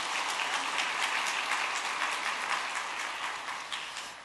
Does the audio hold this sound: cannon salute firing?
no